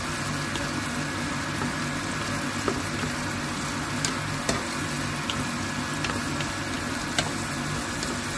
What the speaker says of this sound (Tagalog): Hintayin natin, Pangyaw, na mainit ang mantika, saka po natin ilagay ang gulay.